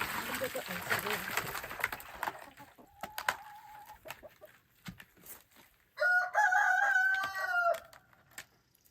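Chickens cluck and squawk nearby amid scattered clicks and rustling, then a rooster crows loudly and at length near the end.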